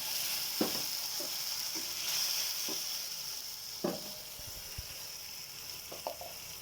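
Spices sizzling in a pan after a little water is added, a continuous close hiss broken by several soft stirring scrapes and knocks, with no voices.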